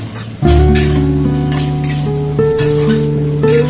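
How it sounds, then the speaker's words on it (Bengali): Fried potatoes sautéed with ground spices in a pan for a paneer potato curry, a loud close sizzle with bursts of stirring over a steady humming tone, no speech. "আলুগুলো দিয়ে ভালো করে কষিয়ে নিতে হবে।"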